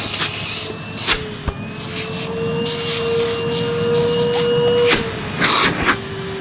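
A 2012 Numatic Henry vacuum cleaner, packed full to capacity, roars loudly on its high setting with a steady whining drone and a motor pitch that shifts, broken by a few bumps and rushes of air.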